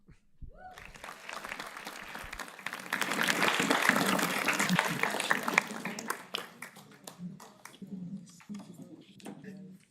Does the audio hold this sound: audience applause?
yes